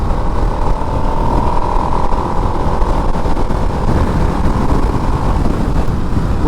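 A Harley-Davidson Nightster with its Revolution engine rides along a highway, a steady, loud engine drone blended with wind rush throughout, with no talking.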